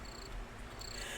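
Crickets chirp in the video game Minecraft, a faint high trill that repeats in short bursts over a quiet, low ambient hum, with no voices.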